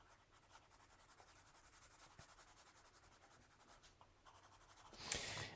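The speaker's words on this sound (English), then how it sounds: "going in and adding the colored pencil like that" Colored pencil scratching across pearl paper: faint, close, rhythmic strokes repeating steadily, ending in a brief louder scrape, with no voices.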